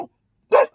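A puppy gives a single short, sharp bark inside a car during its first car ride, loud and close, preceded by a quick faint sound and otherwise quiet.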